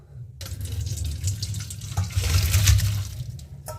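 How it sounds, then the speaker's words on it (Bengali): Boiled pasta being drained, water pouring and splashing steadily into a sink for a few seconds, loud and close, with no talking. "তো চলো এটাকে এবার ভালো করে জলটাকে ঝাড়িয়ে নিতে হবে।"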